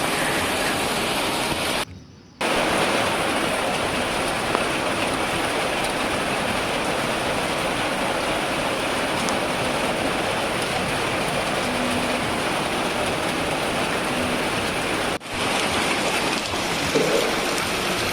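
Monsoon rain pouring off a tin roof, a dense continuous patter and splash close by, steady throughout apart from two brief dropouts.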